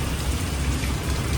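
Steady rain falls and patters on surfaces nearby, a dense, even wash of drops with no voices.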